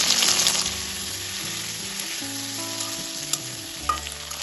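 Sliced okra frying in hot oil in a kadai with salt and turmeric, giving a steady, fairly loud sizzle and crackle throughout, with occasional clatter from stirring and no voices.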